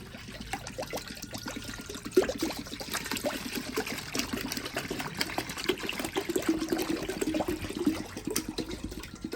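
Two litres of milk pour into a pot with a steady trickling, splashing sound, close by and moderately loud, dotted with small clinks over nine seconds.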